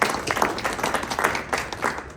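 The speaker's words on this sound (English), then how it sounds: "A warm round of applause." An audience at a business association's inaugural event gives a warm round of applause for a newly introduced vice chairman, with brisk, fairly close clapping rising and falling in small waves.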